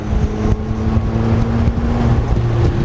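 A $2M, 800-horsepower road-legal McLaren Elva with no windshield cruising at about 56 mph: a steady, loud engine drone and rushing wind buffeting the microphone, continuous throughout, with no speech.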